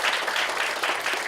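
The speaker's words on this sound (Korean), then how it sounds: "박수 한번." A church congregation at a Sunday worship service claps together, dense continuous applause filling the room at close range and steady loudness throughout.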